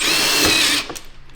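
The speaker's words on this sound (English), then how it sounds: "drilling through this beautiful carbon fiber, but that's how it mounts" A power drill bores through a carbon fiber side skirt on a BMW M5, a loud steady whine that cuts off sharply, followed by brief quieter handling noise.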